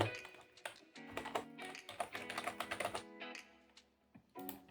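Quiet, rapid clicks of typing on a computer keyboard while working in Adobe Animate come in bursts, with a voice talking over them.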